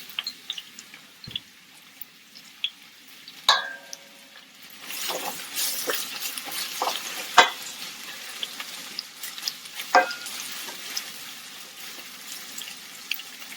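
Onions going into hot oil on a medium-heat stove, a broad steady sizzle with sharp clacks and stirring knocks scattered throughout, close and fairly loud with no voices.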